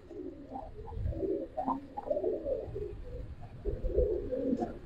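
A pair of Gribaz silver chila pigeons coo in soft repeated low phrases up close, with faint background noise and no talking.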